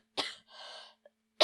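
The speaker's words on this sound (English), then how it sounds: "COVID cough" A person with a COVID cough lets out a sharp, close cough, then a breathy vocal rasp, a tiny click, and the start of another harsh burst, each separated by silence.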